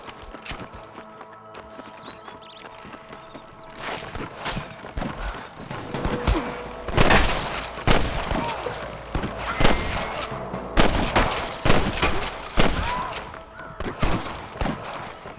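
A gunfire shootout in Red Dead Redemption, with rapid volleys of loud shots that build in density midway, and sharp cracks and echoes over a background of hooves and faint shouting.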